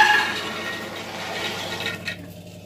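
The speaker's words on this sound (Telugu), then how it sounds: "నీళ్ళు అయితే వేసేసుకుందాము" Water pouring into a new pressure cooker holding washed ingredients, making a continuous close splashing fill that trails off into a few drips at the end.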